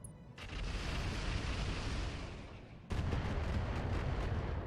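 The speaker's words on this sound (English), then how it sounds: "The more LRMs they lob at our tank support, the happier I am." LRM missile barrage striking tanks in the RogueTech mech game, a sustained rumbling roar of launches and impacts that dips briefly, then surges loud again with a sharp onset, with no talk over it.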